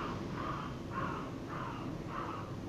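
A person imitates a crow's caw on a street in Harlem, Manhattan, New York City, giving four evenly spaced, harsh calls over steady urban background noise.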